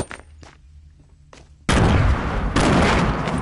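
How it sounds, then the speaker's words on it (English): Grenades launched and exploding in Fortnite solo play: a few soft thumps and steps, then a sudden loud, sustained blast with a second burst soon after, all close and dense, with no speech. "Launch the grenades!"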